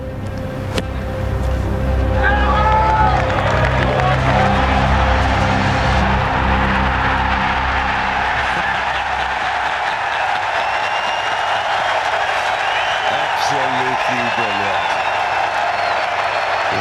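Large golf crowd at The Open, St Andrews, cheering and applauding loudly for a long stretch, the roar swelling after a couple of seconds and holding steady, with a voice speaking over it toward the end.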